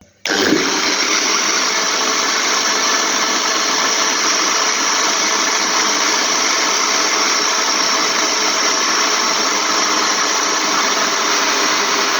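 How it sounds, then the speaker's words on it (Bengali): A mixer grinder blends mint leaves with water for a juice, starting abruptly and holding a loud, steady whirring roar for the whole stretch without voices. "এবার আমরা একটা জল দেবো দিয়ে এটা একটু পিষবো"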